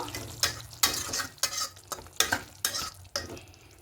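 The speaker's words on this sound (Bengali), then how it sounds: "একটু ফুটতে দেবো ডিম কষাটা একদম রেডি হয়ে গেছে" Egg curry (dim kosha) cooking in a pan on a gas stove, with a spoon scraping through it in about seven rhythmic strokes over a low sizzle, close and clear with no talking.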